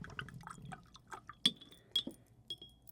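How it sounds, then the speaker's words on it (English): A paintbrush swirls in a glass of water for a children's watercolor painting: soft close sloshing, followed by several sharp glassy clinks of the brush striking the rim at irregular intervals. "take your brush, swirl it around in your water"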